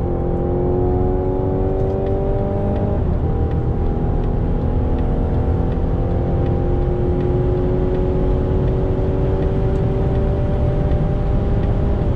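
A Mazda CX-60 in sport mode accelerates to overtake, its engine note rising steadily as a smooth drone under road and wind noise for several seconds. Nobody speaks.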